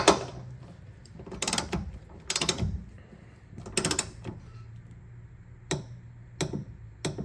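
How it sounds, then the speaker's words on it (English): A torque wrench tightening a front suspension bolt on an S197 Mustang: a handful of sharp, close metallic clicks spaced irregularly across the clip, with ratcheting between them in a quiet garage. "I'll make sure that you can actually hear the torque wrench click"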